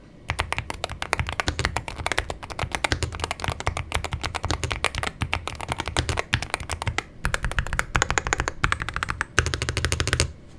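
Rapid typing on a Meletrix Boog75 mechanical keyboard, dense clacky keystrokes in quick bursts with brief pauses, close and crisp with no talking.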